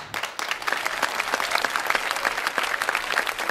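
A comedy show audience bursts into brisk, dense clapping, a steady wash of applause from a crowd lasting a few seconds without pause.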